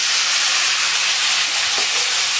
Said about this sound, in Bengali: টমেটোটাকে একটু লাল করে ভেজে নেবো।